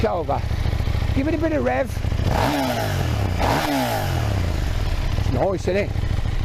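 A 2022 KTM 890 Duke engine revving near its exhaust pipe: a few sharp throttle blips rise and fall over a steady idle, loud and close, with someone talking between them.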